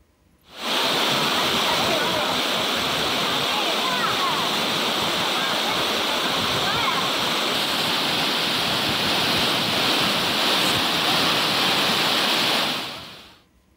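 The Meghamalai waterfall pours with a steady, dense roar that fades in, holds loud and even for about twelve seconds, then fades out, with tourists bathing in the falling water.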